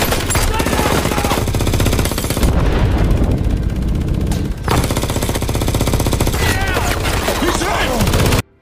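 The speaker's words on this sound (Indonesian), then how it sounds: "Navy SEAL malah terjebak dan dihujani tembakan." Movie battle gunfire as Navy SEALs are pinned down on a bridge, dense rapid automatic bursts and overlapping shots, loud and continuous with a brief lull midway before cutting off abruptly.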